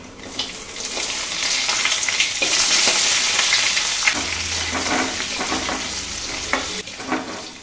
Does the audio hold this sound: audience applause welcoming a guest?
no